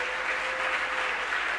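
A church congregation claps and cheers steadily, a dense wash of applause filling the room without pause.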